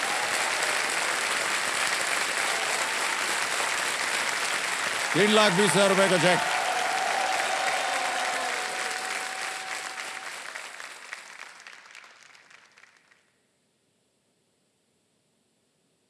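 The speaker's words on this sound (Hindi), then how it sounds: "जोरदार तालियां बज जाए इनके लिए" Studio audience applause on the Kaun Banega Crorepati game show, dense steady clapping running throughout, with a voice speaking over it midway, then gradually fading out before silence.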